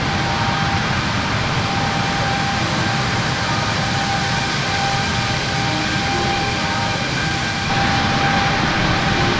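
An Airbus A330 airliner in Microsoft Flight Simulator 2024 climbs away from the runway on takeoff, its jet engines giving a loud, steady broadband roar and whine that lasts throughout and swells slightly near the end, with no talk over it.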